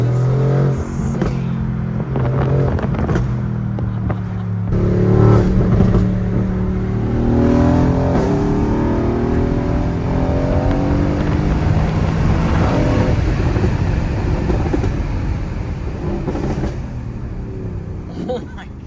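A Mercedes-AMG GT R supercar under way, its engine note rising and falling steadily throughout at close range, with occasional voices from inside the car.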